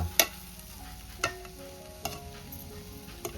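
Masala and raw green mango being sautéed in a pan for a Konkani mandeli fish curry: a few sharp, separate spatula knocks ring out over a faint, low frying hiss, with no voices.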